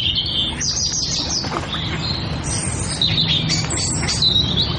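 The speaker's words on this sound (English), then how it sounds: "This is Birds, courting at the London Wetland Centre." Many birds courting at the London Wetland Centre, chirping and calling at once, a busy chorus of high tweets and whistles over a steady outdoor background.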